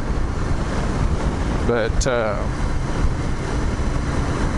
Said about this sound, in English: that wind is buffeting through the buildings